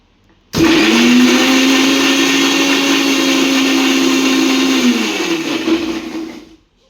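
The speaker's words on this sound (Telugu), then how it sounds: "కొట్టుకోవడం అంటే ఏం లేదు, మిక్సీ వేసుకోవడమే" A loud mixer grinder blending tomatoes whirs at full speed for about six seconds, starting abruptly and winding down at the end.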